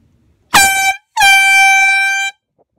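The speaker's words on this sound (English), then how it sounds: "The horn, well, the horn, it's making a weird noise." An electric car horn making a strange noise, sounding in two blasts, a short honk and then a longer, harsh, buzzy tone of about a second, loud and alone.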